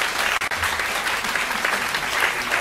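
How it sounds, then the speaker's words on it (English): School board meeting audience breaks into loud, sustained applause after a public statement, a full and steady wash of clapping from a crowded room. "you may feel the desire to clap and applaud after people's statements"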